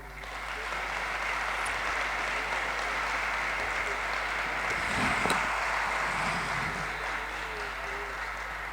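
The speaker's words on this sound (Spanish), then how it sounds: "De un aplauso al Señor" A church congregation applauds together in a steady, sustained wash of clapping, heard at a moderate distance over a low constant hum, with a few faint voices mixed in.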